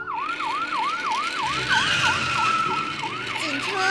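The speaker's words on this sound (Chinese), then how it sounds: "警车出发。" Electronic wailing police siren from a Peppa Pig transforming bus toy in its police-car form, a steady up-and-down whoop repeating about twice a second, loud and close, with faint toy rumble beneath.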